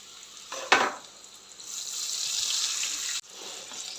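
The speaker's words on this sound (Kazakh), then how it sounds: "Міне қызартып пісіріп алдық." Eggplant slices frying in hot oil in a home kitchen, a steady sizzle with a sharp splash or clatter near the start and a brief break before the hiss resumes, close and fairly quiet, with no talk.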